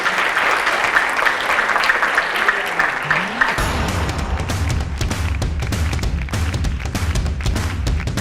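An audience at a forum on gender equality applauds, a sustained wash of clapping that thickens and grows fuller partway through, steady and loud for several seconds with a few low thumps underneath.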